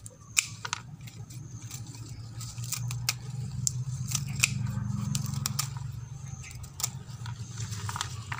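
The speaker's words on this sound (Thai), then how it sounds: "เราจะตัดเลยนะคะตัดฟ้าทลายโจรตัดทั้งกิ่งเราจะใช้ทั้งก้านทั้งกิ่ง" Scissors snip Andrographis herb stems and branches in a Thai garden, a run of sharp close cuts at irregular intervals over a low background rumble, with no talking.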